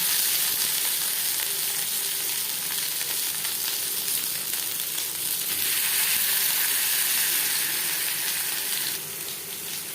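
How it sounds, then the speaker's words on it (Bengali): Fish paturi, parcels of fish, frying in two spoons of mustard oil: a moderate, continuous close sizzle and crackle with a steady hiss that drops slightly near the end, no talk. "ফ্রাই করবার জন্য দিয়ে দিয়েছি দু চামচ সরষার তেল এবার দিয়ে দেবো পাতুরি"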